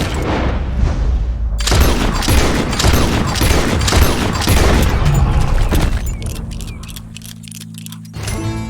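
Gunfire in Red Dead Redemption 2 as an animal is shot: a loud, dense burst of rapid booming shots with heavy rumble, then a fading tail and scattered clicks before a final thump.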